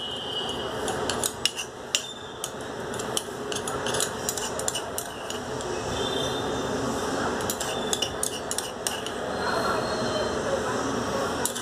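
Spoon stirring burnt clove ash into honey, soft repeated scraping and light clinks against a small bowl or cup, close and continuous, with a voice talking over it.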